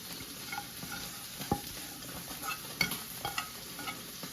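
Fried chicken being stirred into a mayonnaise, chilli sauce and tomato sauce mix, a quiet close sequence of soft wet scrapes and occasional spoon clicks on a bowl with no voices.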